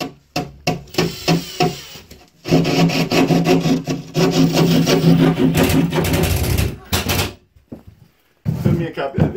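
Drywall being cut out inside a pole barn art studio, a few short scraping cuts followed by a long, loud stretch of continuous rasping and sawing, then a pause and more scraping.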